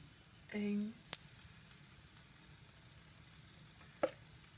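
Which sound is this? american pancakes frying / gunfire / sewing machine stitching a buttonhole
american pancakes frying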